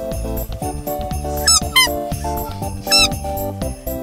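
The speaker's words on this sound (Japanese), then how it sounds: "ミニーちゃんのリボンの音が鳴るおもちゃ" A squeaky Disney Minnie ribbon pet toy for dogs sounds repeatedly alongside loud, rhythmic background music, with two bursts of bright, rising squeaks standing out close by.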